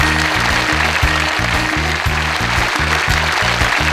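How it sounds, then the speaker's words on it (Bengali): A studio audience on the Bangladeshi TV show Ityadi applauds in a steady, dense wash of clapping, mixed with a loud, rhythmic musical beat. "আসুন আমরা সবাই মিলে করতালি দিয়ে তাদের অভিনন্দন জানাই"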